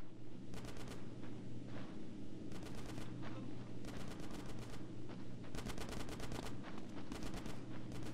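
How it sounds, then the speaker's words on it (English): Bursts of automatic gunfire in GTA San Andreas, several rapid rattling volleys separated by short pauses, loud and sharp over a steady low background hum. "Get some suppressing fire in there!"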